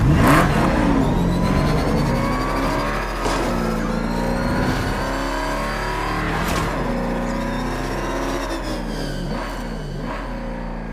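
A car accelerates at high speed, its engine rising and revving loudly and continuously through a whirring, rumbling pass with shifting pitch.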